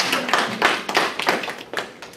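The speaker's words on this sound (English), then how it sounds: "Let's give these guys a round of applause." A class applauds together, a short burst of many hands clapping at close range in a room, uneven and bright, with no talk over it.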